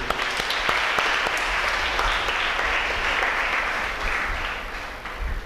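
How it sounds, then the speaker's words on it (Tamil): A congregation claps together during a Tamil church service, a dense, steady round of applause that keeps going at an even level from start to finish with no voices on top. "நாம் கைத்தட்டி வாழ்த்துக்களை பகிர்ந்து கொள்வோம்"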